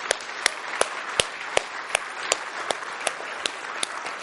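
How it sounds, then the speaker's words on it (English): An audience at a Christmas Eve church service claps in a steady, even rhythm, sharp evenly spaced claps standing out over a softer bed of applause, moderately loud and without talk. "I didn't have to tell you to clap."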